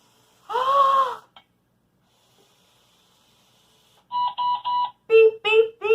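A Bee-Bot floor robot beeps after finishing an obstacle course. One longer electronic tone comes first, then a short run of clipped beeps, with quiet gaps between.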